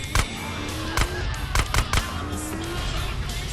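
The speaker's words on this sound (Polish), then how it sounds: "Pozwól Moli zestrzelić wrogów." Several sharp gunshots crack out in an irregular burst, about five in all, in GTA San Andreas, over steady game background noise such as a running engine.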